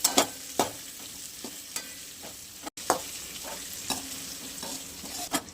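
Carrot pieces sautéing over medium gas for soya chilli manchurian, with sharp spatula scrapes and clacks every second or so over a continuous low sizzle.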